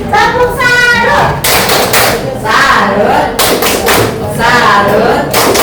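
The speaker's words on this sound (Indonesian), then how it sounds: "Oke, tepuk salut." A classroom of students performs a rhythmic group clap-and-chant routine, loud close claps and thuds in quick patterned bursts mixed with children's voices chanting together.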